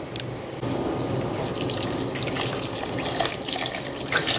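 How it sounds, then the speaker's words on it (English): Water runs steadily from a kitchen tap into a cooking pot of black-eyed peas, a continuous splashing pour lasting several seconds, close and fairly loud with no talking. "Might add a little bit of water to this"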